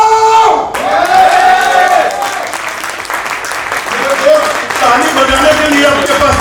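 An audience at a company get-together for Alena Wellness breaks into loud, sustained applause with dense clapping and some crowd noise, while a voice carries on over it.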